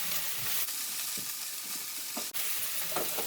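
Cabbage, apple and Heura plant-based pieces are stirred in a frying pan: a faint, steady sizzle broken by a few soft scraping strokes of the utensil.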